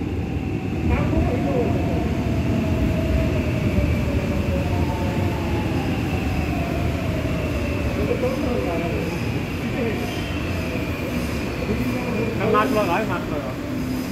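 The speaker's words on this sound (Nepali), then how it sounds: "ल हामी जाने ट्रेन आइपुग्न थालिसकेको छ यति बेला अब यहाँ" A subway train pulls into a station in South Korea with a steady rolling rumble and faint squealing wheels, while people talk nearby.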